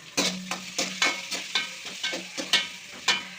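Chillies sautéing in hot oil for a spinach sambar tempering, sharp rhythmic spoon strokes against the pan at a steady pace over a soft sizzle, close and without voices.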